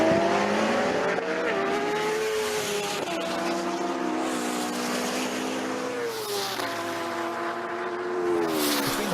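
Ariel Atom V8, a 600bhp rallycross Citroen DS3 and a BMW HP4 superbike in a standing quarter-mile drag race, with high-pitched engines screaming steadily and rising through gears, loud and close throughout.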